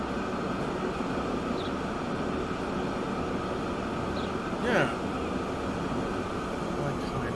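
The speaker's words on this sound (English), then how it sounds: "We have our first electric train," An electric locomotive in the rail-building game Transport Fever 2 runs with a steady, even rumble and hiss that swells briefly midway, no voices over it.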